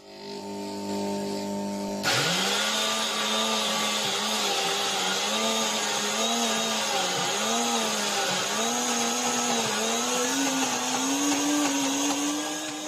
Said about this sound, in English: I'm going to put it in a grinder and grind this